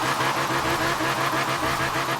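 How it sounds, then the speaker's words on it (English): A custom-built twin turbo V10 drift car on rally suspension and wheels in Forza Horizon 4 drones steadily at high revs, loud and close, with a faint pulsing rhythm and no talking. "Twin turbo V10 engine there."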